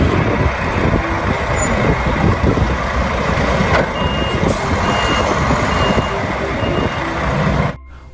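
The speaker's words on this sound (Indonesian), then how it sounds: "Di sini ada mobil truk molen." A toy concrete mixer truck sounds off steadily and loudly, with repeated reversing beeps over an engine-like rumble lasting about seven and a half seconds before cutting off abruptly.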